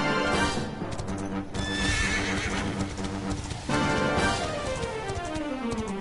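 A horse mount in the video game Dragon Quest XI, with loud whinnies and neighing alongside rhythmic clip-clop hoofbeats, layered over game music and effects.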